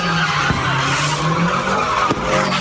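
Car tires skidding and squealing as a car does donuts at a street takeover at an intersection in Milwaukee, a loud continuous screech with engine roar throughout, a couple of sharp thumps, no talking.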